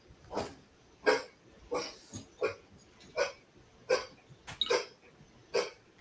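A cat hacking and coughing, about nine sharp, raspy bursts at a steady rhythm, close and fairly faint, with quiet gaps between them.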